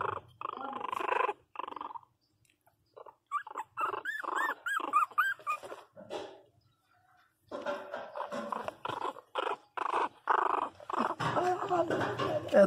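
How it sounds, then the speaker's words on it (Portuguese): A small pinscher puppy growls and snarls in bursts, with pauses between, close and fairly loud. "a cachorrinha brava."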